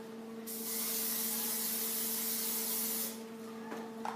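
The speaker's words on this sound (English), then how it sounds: "you want to spray the skillet with Pam or any type of cooking spray" A steady spray of cooking spray onto a skillet hisses continuously for about two and a half seconds, close and fairly loud, over a low electrical hum, then stops abruptly.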